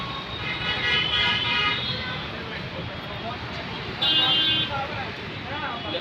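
Busy road traffic near Shaheen Bagh, New Delhi, roars steadily, with short car horn toots cutting through, close and fairly loud, under the murmur of a voice.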